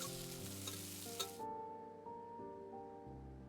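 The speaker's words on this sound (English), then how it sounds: "The heat is on high and the oil is sizzling in the pan." Hot oil sizzles and crackles in a pan over high heat, a close, steady fry that holds through the whole moment, with tonal game-style music layered above it.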